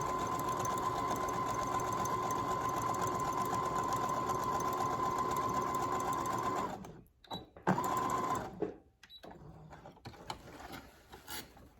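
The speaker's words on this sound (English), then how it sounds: "I'm just going to sew across it." Sewing machine running steadily for about seven seconds as it stitches across fabric while making an angel ornament, then stopping, with a few short bursts and quiet handling noises after.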